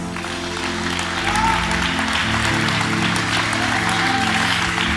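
A church congregation claps in steady, dense applause for several seconds, loud and sustained, with a faint voice and music underneath.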